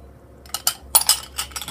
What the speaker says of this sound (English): You pour in your concoction into the glass